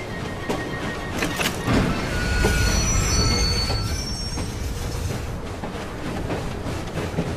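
Steel train wheels and brakes squeal steadily amid constant rumbling and clattering rail noise during a runaway train scene in the video game Assassin's Creed Syndicate.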